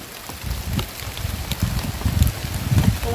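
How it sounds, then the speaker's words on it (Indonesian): Steady heavy rain pours down while gusts of wind buffet the microphone, rising and falling throughout. "Tuh, udah hujan dong anginnya."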